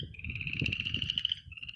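Frogs croak outdoors in a steady, rapid chorus of trilling calls, moderately close and alone with no talk over them.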